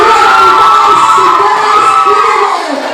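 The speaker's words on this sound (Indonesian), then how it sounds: "Mari kita berikan tepuk tangan" A loud, continuous roar of cheering and shouting from a crowd with many young voices fills a fashion show contest held ahead of Indonesia's 77th Independence Day, sustained for nearly three seconds before easing slightly.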